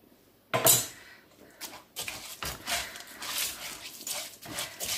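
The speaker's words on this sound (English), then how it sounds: "I'm just going to add this cup into the rice, and I'm just going to give it a nice stir" Rice with peri peri paste is stirred in a pot, giving soft scraping and clinking of a spoon against the pot after a sharp knock near the start, with faint, uneven rustling throughout.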